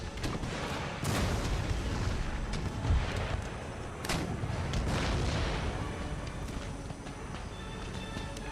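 Artillery fire in Empire Total War on a Great Britain campaign battlefield: several dull, distant cannon booms sound over continuous battle noise and hoofbeats, fairly faint throughout.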